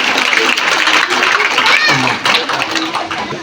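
Children clap at a school function, a dense, close burst of applause that runs the whole stretch, mixed with young voices calling out over it.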